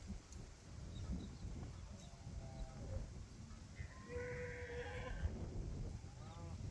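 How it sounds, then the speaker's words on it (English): A mob of 300 to 400 steers being moved to a fresh paddock, faint distant bellows and calls over steady low rumbling and wind, quiet throughout. "There's somewhere between 300 and 400 steers in this mob."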